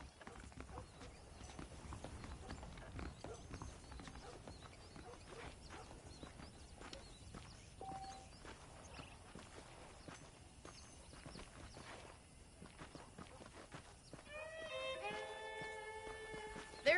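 Horse hooves clip-clop steadily while riding in the Red Dead Redemption video game, a continuous rhythmic patter under faint ambient game sound, with a brief tonal musical phrase rising near the end.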